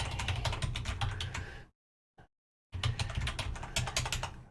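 Fingers type quickly on a computer keyboard in two close bursts of dense clicking, separated by a near-silent pause with one isolated keystroke.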